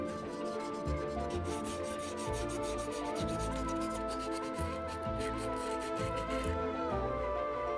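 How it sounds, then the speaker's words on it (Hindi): Sandpaper rubbed by hand over the surface of a wooden two-roller slingshot before painting, a continuous rasping scrape in long, even back-and-forth strokes, heard up close. "अब पेंट लगाने से पहले पूरी सतह को रेगमाल से चिकना करना जरूरी है।"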